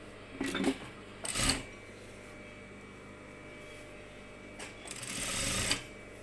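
Sewing machine running a topstitch along a fabric face mask in two short, quiet bursts of rapid stitching separated by a pause.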